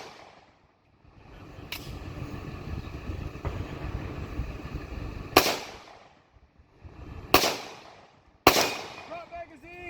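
Sharp 1911 pistol shots at a shooting competition: four loud, close, separate reports spaced irregularly, with metallic handling noise and rustling between them.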